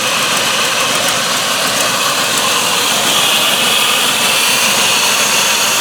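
A GM LS V8 engine idles with a slight lope, a steady loud rumble running alone without a break, fresh from an intake manifold replacement.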